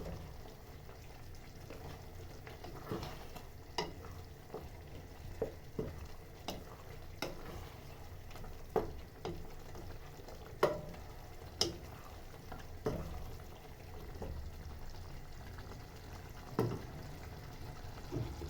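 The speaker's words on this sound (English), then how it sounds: "I'm going to turn it like that. I just want everything to mix well" Sausages and Indomie noodles frying in a pan and being stirred, quiet sizzle under repeated scraping and clinking strokes of a utensil at an uneven pace.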